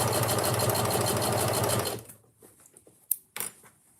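A sewing machine stitches fabric with a loud, fast, steady mechanical whir for two seconds, then stops, followed by faint handling noises and a couple of sharp metallic clicks.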